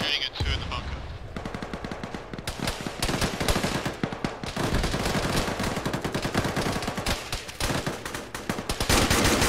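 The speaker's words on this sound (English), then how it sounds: "I think Charlie is shooting at 2 in the bunker." Bursts of rapid gunfire ring out at a bunker in the ArmA video game, dense rattling volleys and single shots running almost without pause, loud and close.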